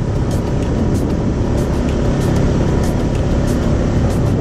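A motorcycle carrying a whole family climbs a steep road in Thailand, its engine droning loud and steady throughout, with wind rush over the broadband rumble.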